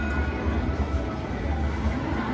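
Rumbling railroad train sound from a Railroad Riches slot machine bonus in a casino, a steady low mechanical roll with a faint high tone above, continuous and fairly loud amid casino ambience.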